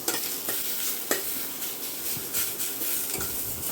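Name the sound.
lightly frying in a little oil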